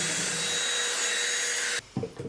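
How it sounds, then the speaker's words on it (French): A household vacuum cleaner runs steadily and loudly, sucking up a bug from a tablecloth, then cuts off abruptly near the end, leaving a few soft knocks and rustles. "Ah bah non, je vais l'aspirer."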